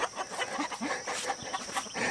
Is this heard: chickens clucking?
yes